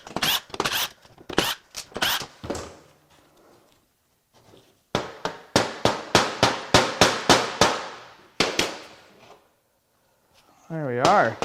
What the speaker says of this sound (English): All right, let's take the oil pump apart.